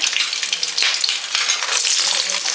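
Garlic cloves and green chillies frying in hot oil with popped mustard seeds, a loud close crackling sizzle with bursts of spattering and occasional stirring, continuous and unaccompanied by speech.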